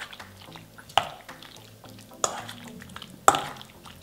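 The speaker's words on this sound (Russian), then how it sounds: "Хорошенько перемешиваем." Meat is mixed by hand with a fresh marinade in a bowl: soft wet squelching and stirring, broken by three sharp utensil knocks against the dish, close and without talk.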